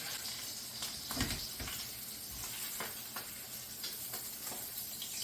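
A bacon, egg and cheese sandwich flipped in a skillet, with quiet steady sizzling and hiss, plus a few soft thumps and scrapes as it is turned.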